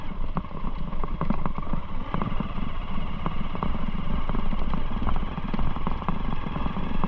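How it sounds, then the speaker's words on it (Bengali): An engine runs steadily at Patenga sea beach in Chittagong, a continuous low rumble with light clicks and rattles throughout, fairly close and with no voices over it. "শুধু ইঞ্জিনের সাউন্ড, আর কোনো কিছু সাউন্ড নাই"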